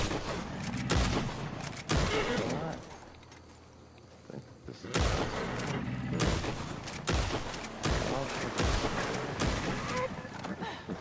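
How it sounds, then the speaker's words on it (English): Bursts of gunfire and explosions in Red Dead Redemption Online, several sharp loud blasts spaced across the span with a quieter lull between, someone talking over parts of it. "I gotta get my explosions. Oh, the animal explodes."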